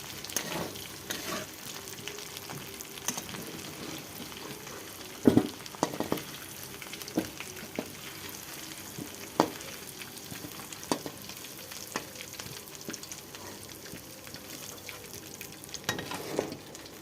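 Hilsa fish fries in hot oil for Bengali curry with taro, a steady close sizzle throughout, punctuated by scattered sharp clicks and pops from the pan and utensils.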